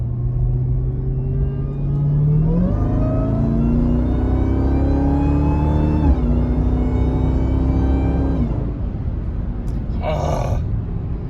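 A Jeep Trackhawk engine fitted with an LMI Legmaker cold air intake revs up loudly, its pitch climbing in stages and holding high before dropping back, with a brief whoosh near the end.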